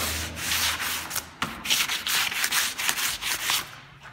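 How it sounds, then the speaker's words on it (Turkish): Sandpaper rubs over primer on a Suzuki Carry body, giving steady rasping strokes in a quick back-and-forth rhythm, close and fairly loud, with a brief pause before the strokes resume. "Ben şimdi bu zımparayı atayım arkadaşlar."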